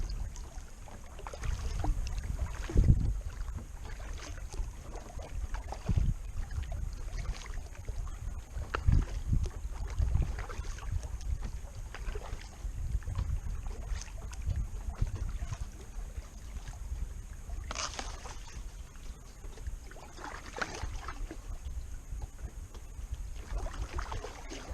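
A kayak paddled along a lake shoreline at Prettyboy, with soft paddle strokes and water splashes under steady, gusty wind buffeting the microphone.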